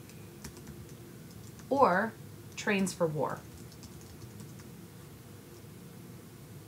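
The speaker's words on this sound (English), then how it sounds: "When making a screencast, my typing gets really bad." Computer keyboard typing during a screencast, faint and steady in the background while a voice speaks briefly over it.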